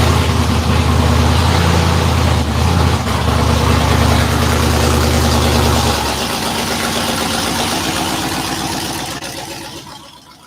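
A loud engine idles close by in a shop, a deep steady rumble with a lumpy low throb that stays constant for about six seconds, then softens and fades toward the end.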